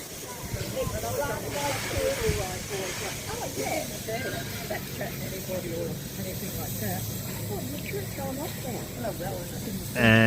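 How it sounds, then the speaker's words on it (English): Steam hisses from the Lakeview and Star steam locomotive on display at a railway museum in Bassendean, a steady broad hiss with a louder burst at the end while people talk nearby. "we have the Lakeview and Star Steam locomotive."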